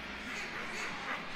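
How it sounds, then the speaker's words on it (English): A duck call is sounded in a live Marine chamber orchestra concert piece, giving a steady, nasal quacking tone that runs continuously for a moment over the hall's background. "Oh, that's the ducky call."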